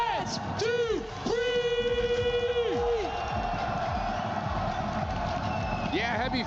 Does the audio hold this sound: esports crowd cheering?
yes